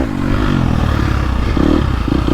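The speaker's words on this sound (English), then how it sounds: "This is the all-new engine," A KTM 250 Factory Edition dirt bike on a trail, its new shorter-stroke engine running loud and close with a steady, throaty drone and slight rises in revs.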